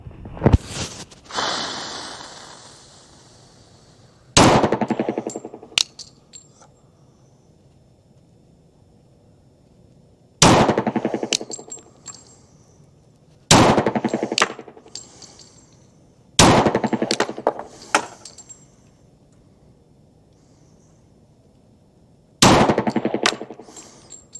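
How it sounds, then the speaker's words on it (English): A Sig 229 double-action-only pistol fires 180 grain Federal HST duty ammunition: six loud, sharp shots spaced several seconds apart, each with a ringing outdoor tail that fades into quiet. "Sig 229 double action only with the 180 grain Federal HST duty ammo."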